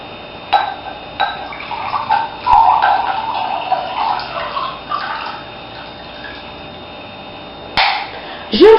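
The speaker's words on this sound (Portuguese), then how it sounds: "a gente vai pegar a água e vai pôr dentro do copo que está seco" Water poured from a container into a dry drinking glass, a faint trickling, burbling stream in short uneven spurts that fades out, with a knock near the end.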